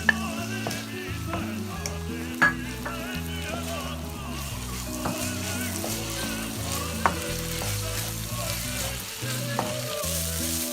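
Minced meat keema with chopped green chillies fries in a pan with a steady, loud sizzle and frequent stirring scrapes. No voices are heard.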